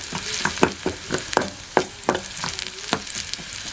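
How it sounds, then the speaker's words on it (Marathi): Onion fries in hot oil in a pan over a village wood-fired stove, with a bright sizzle broken by a quick, irregular series of scraping stirs from a spoon. "तेल तापलंय कांदा घालते कांदा परतून घेते"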